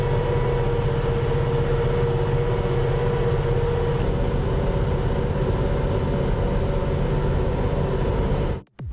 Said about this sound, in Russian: Сельская музыка весны – это звук трактора, идущего по полю.